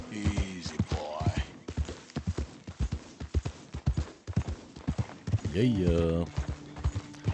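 Horse hooves clip-clop in Red Dead Redemption 2, a steady run of sharp hoof strikes heard close, with a horse whinny near the start and again near the end and someone speaking briefly.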